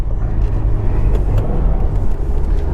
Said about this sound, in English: I'm blipping the gas, and I'm letting off the clutch and still giving it a little bit more gas than what I blipped